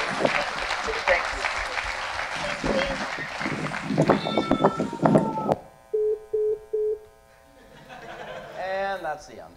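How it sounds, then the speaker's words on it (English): An audience at a robotics conference science fair breaks into a burst of clapping that lasts several seconds, mixed with crowd voices, before fading into quieter electronic beeps and tones. "They're clapping for you."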